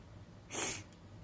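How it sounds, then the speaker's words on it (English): A single short, breathy sniff, close and fairly quiet, over a faint steady background hum. "sorry, I'm sniffing"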